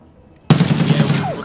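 Automatic gunfire in Escape from Tarkov, a loud burst that cuts in suddenly after half a second of near silence and rattles on for about a second of rapid close shots.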